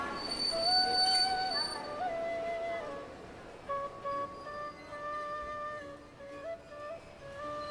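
A passenger train on the Pune to Hyderabad line rolls along its rails, with high steel wheel squeals drifting and sliding in pitch over a steady, moderate rumble of running gear.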